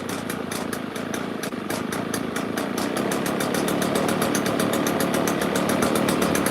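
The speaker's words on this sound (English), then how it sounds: "I just want to bump up the idle." A Honda lawn mower engine idles steadily and loudly up close, a fast, even putter that runs on without pause.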